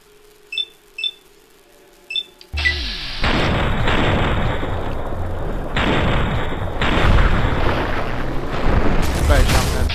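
Gauss rifle gunfire in Fallout: New Vegas, heard after a few soft electronic beeps: loud, heavy blasts and crackling shots repeat over a sustained rumble of battle noise.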